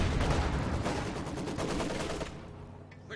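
A Maxim machine gun firing in Company of Heroes 2, a dense, loud burst of rapid shots with other gunfire mixed in, continuing steadily before trailing off near the end.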